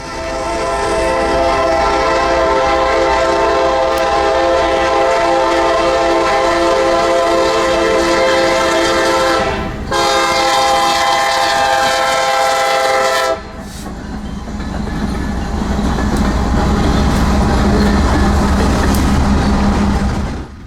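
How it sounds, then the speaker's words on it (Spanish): An SD-70 ACE Tier 4 locomotive with a quiet EMD 1010 engine sounds its shrill, multi-tone horn. One loud, sustained blast is cut briefly and then resumes. It stops after about thirteen seconds, leaving the heavy rumble and clatter of the passing train. "Al frente lleva una SD-70 ACE Tier 4, accionando ese estridente silbato"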